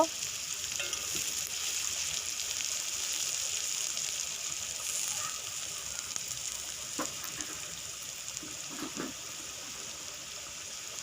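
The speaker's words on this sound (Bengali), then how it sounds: "তেলের মধ্যে দিয়ে দেব কেটে রাখা পেঁয়াজ। পেঁয়াজটা 2 মিনিটের মতো আমি ভেজে নেব।" Chopped onions sizzle steadily in hot oil in a wok, a continuous close frying hiss with a few faint clicks of stirring.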